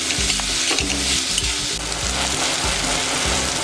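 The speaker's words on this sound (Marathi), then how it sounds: "तर हा बघा व्यवस्थित आपण कांदा टोमॅटो व्यवस्थित परतून घेऊया." Chopped onion and tomato sizzle steadily in hot oil while a spoon stirs them with a regular scraping rhythm, close and loud, with no talking.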